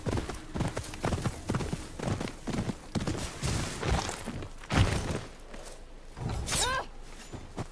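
Hooves of a galloping horse in Ghost of Yotei pound in quick bursts, with a heavier thump midway and a high whinny near the end.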